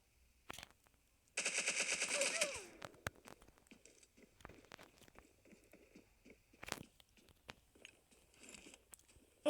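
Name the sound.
gunfire in a video game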